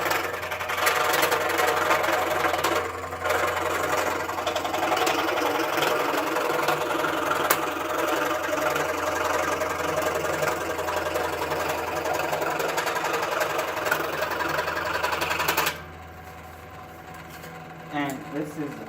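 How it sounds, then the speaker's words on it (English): A WEN 16-inch variable speed scroll saw runs steadily, its motor and reciprocating blade buzzing loud and continuous as it cuts a board, then cutting off sharply near the end, leaving quieter room noise. "It's a nice size scroll saw."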